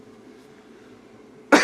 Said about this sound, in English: I'm so sorry for the coughing